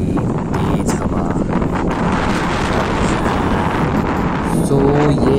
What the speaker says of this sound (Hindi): हवा की आवाज देख रहे हो, कितनी खतरनाक है ना